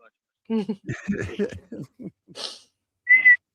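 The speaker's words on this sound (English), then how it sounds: "Oh, I whistled." People talk and chuckle, then a brief, clear whistled note rings out near the end, close by and steady in pitch.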